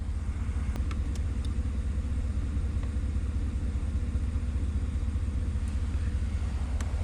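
A Cadillac Escalade engine idling steadily with a cruise control fault, a continuous low rumble holding an even level throughout with a few faint clicks on top.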